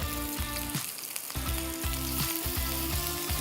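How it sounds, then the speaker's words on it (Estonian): Turkey and cottage cheese patties fry in a pan with a steady, close crackling sizzle. A low, pulsing rumble runs beneath it, and no one speaks. "jätame siia nüüd praadima"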